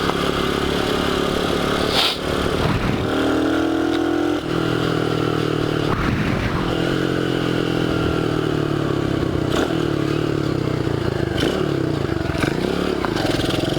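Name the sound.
Dax 125cc motorcycle riding and accelerating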